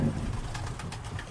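A baby Birmingham roller pigeon makes a soft, low cooing sound close by, quiet and brief, with no other voices.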